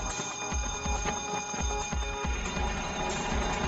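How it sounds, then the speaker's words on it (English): A fire station alarm at a busy downtown firehouse rings loudly and continuously, a steady electronic tone with pulsing beats and no speech. "The alarm sounds at Chinatown Express, home of Engine 2"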